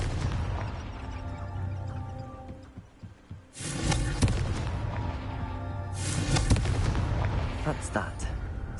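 Confringo fire spell blasts in the video game Hogwarts Legacy: two loud broadband explosive bursts, one near the middle and one later, over a continuous low game rumble and music.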